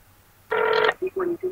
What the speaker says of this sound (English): Wait, you're actually calling Charlotte on the phone